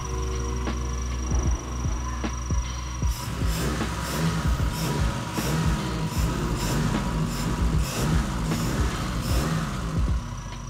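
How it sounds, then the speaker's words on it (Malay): A restored 12-valve Magma engine from a 1990 Proton Saga, fitted with only a half-length exhaust, starts up and runs with a loud, rough, throbbing idle, close by and continuous. "Tetapi basically enjin ni dah start hidup."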